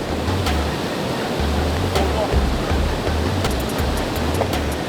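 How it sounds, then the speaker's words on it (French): A waterfall seen while bivouacking in the mountains roars as steady, loud broadband rushing water for the whole stretch, with a low rumbling hum underneath. "Regardez-moi les gars, cette cascade là."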